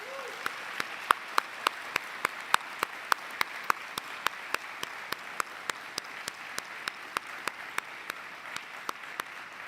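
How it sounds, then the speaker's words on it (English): Audience applause at a World War II museum event, a soft bed of crowd clapping punctuated by sharp, evenly spaced claps repeating at a steady beat throughout. "let's have one round of applause for those who fought and won 80 years ago"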